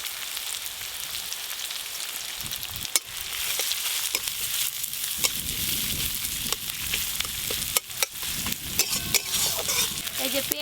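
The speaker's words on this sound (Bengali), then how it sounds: "পেঁয়াজ কুচি আর রসুন কুচি বেশ ভালো করে একটু ভাজা ভাজা হয়ে গেছে" Chopped onion and garlic fry in hot oil with whole cumin and whole garam masala, giving a steady close sizzle under repeated stirring scrapes, with sharp utensil knocks near the start and again later.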